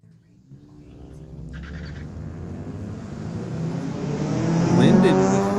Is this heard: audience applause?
no